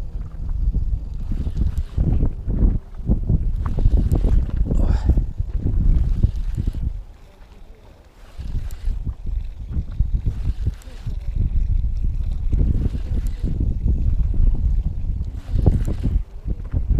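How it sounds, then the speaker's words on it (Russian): Strong wind buffets the microphone beside the Moscow River on a winter day, arriving in loud, rumbling gusts with a brief lull midway. "Ветрюган, конечно, это жопа"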